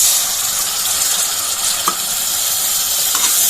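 Spice masala with chili and cumin powder sizzles steadily in a pan with a little broth, a dense continuous frying hiss with a few faint stirring scrapes, close and without talk.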